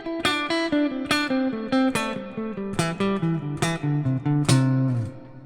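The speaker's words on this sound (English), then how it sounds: "If I played 16th notes and grouped them into 3, we'd get something that sounds like this." Clean guitar picks sixteenth notes grouped in threes in a neo soul R&B style, bright plucked notes with accents falling every third note in a quick, lopsided repeating pattern, played alone.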